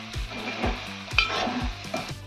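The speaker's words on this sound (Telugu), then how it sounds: "కారం మొత్తం ముక్కలకు పట్టేలా కలుపుకుంటున్నాను ఫ్రెండ్స్." Gongura chicken with chili powder is stirred in a pan, the spoon scraping in a regular rhythm of about five strokes over a soft sizzle, close and clear without talking.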